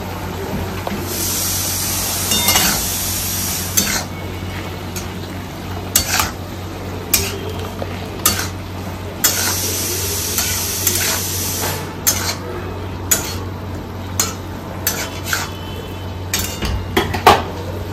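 Leafy greens stir-fried in a home kitchen pan with salt and chili, heard as steady scraping and clinking of a utensil against the pan over a low sizzle, with frequent sharp knocks, close and alone.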